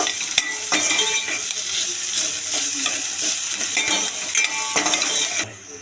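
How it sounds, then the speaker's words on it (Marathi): Onion and two bay leaves sauté in hot oil in a pot, a steady close sizzle with occasional stirring scrapes and clinks running throughout, no talking. "ते आता आपण परतून घेऊया कांदा चांगला लाल होईसर आपण परतूया"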